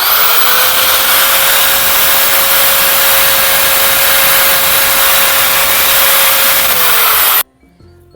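An electric drill runs continuously while boring into a home wall for a folding ironing board installation, a loud close motor whine holding a steady pitch for about seven seconds before cutting off abruptly.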